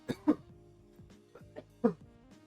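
A few short coughs and throat-clearing bursts, close and fairly quiet, spaced unevenly over a couple of seconds.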